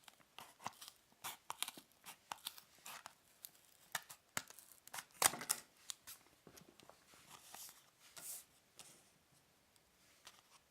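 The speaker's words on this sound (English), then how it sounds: "following the cut line here with a pair of scissors. So very carefully snipping right across." Scissors snip across the cut line of a card packet holding a Samsung Evo Plus 128GB microSDXC card, giving a close, quiet run of short crisp cuts with small crinkles in between.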